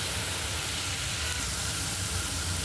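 Masala sautéing in a pan for a green moong sabzi gives a steady, close sizzle with a broad hissing wash that holds evenly throughout, with no voices.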